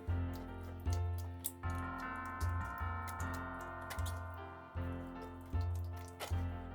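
Boiled guavas pushed and scraped through a metal sieve set in a bowl, a steady repeated scraping and tapping stroke close by, with no talking.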